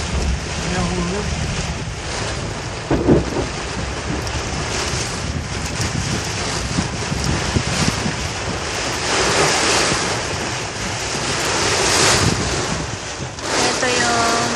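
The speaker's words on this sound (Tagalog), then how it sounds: "Thunderstorm." Heavy rain and gusting thunderstorm wind during a Texas storm, a loud continuous broadband roar with buffeting wind noise on the microphone and surges in intensity throughout.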